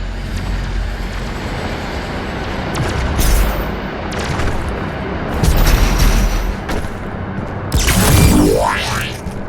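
The BFG 10,000 cannon fires in Doom Eternal, with deep rumbling booms and rising energy surges building to a loud sweeping discharge, all heavy and close.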